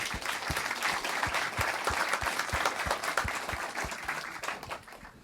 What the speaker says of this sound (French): Je pense qu'on peut aussi vous applaudir.